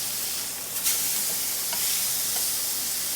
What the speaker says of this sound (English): Now we're going to render some of the fat on the bottom here in its own fat